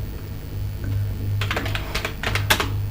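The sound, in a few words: typing text on a computer keyboard in PowerPoint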